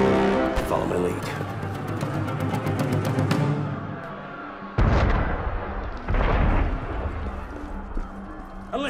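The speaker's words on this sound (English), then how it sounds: "That was cannon fire." In the Assassin's Creed Unity video game, cannon fire booms twice in a prison scene, two heavy blasts landing midway under ongoing spoken dialogue and a continuous rumbling background.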